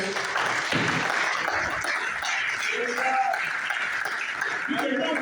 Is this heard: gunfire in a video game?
no